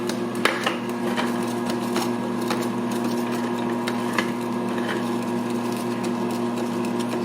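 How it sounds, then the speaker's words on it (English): A new electric tomato strainer grinder processes tomatoes for sauce, giving a steady mechanical hum with a constant motor whine and occasional clicks and knocks. It runs continuously at moderate, even loudness. "this is the first time we're using the grinder"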